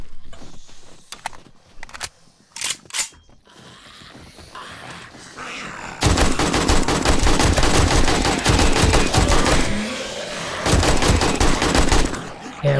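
Gunfire in the zombie survival game 7 Days to Die: a few scattered shots early, then a long sustained burst of loud rapid automatic fire that briefly pauses and resumes.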